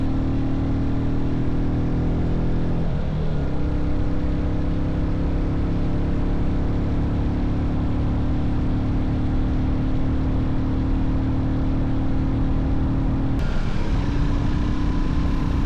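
A Royal Enfield Classic 350 single-cylinder motorcycle climbs uphill out of a river valley, its engine droning loud and steady with wind rush, shifting pitch briefly near the start and again near the end.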